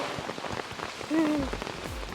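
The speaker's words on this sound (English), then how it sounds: "Rain, rain, go away, come again some other day" Rain falls steadily on surfaces in Yana, a very wet village near caves in Karnataka, a constant close patter, with a brief hummed or sung voice rising partway through.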